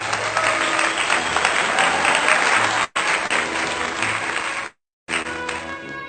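Steady, dense applause from an audience at an elementary school graduation program, continuous and fairly loud, briefly cutting out twice before resuming.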